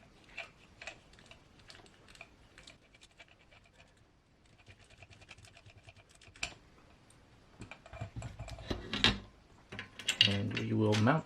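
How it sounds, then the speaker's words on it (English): Small screws are backed out of an RC car transmission during a build, giving soft clicking, scraping tool and plastic handling sounds that grow busier and louder toward the end, close and quiet, with no talking. "we're going to have to remove these two screws"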